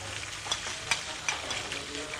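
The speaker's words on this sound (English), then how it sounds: "sizzle them up a little bit" Steady crackling sizzle of prunes and raisins frying in hot oil, with scattered louder pops and light stirring; no voices.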